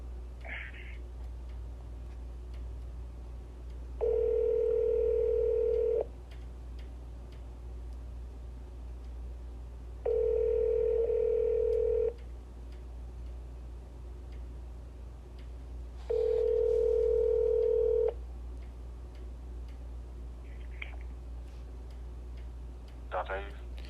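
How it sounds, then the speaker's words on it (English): A telephone call rings out on the line, with three long, even ringback tones separated by pauses of several seconds over a low steady hum. "Let me just call him real quick."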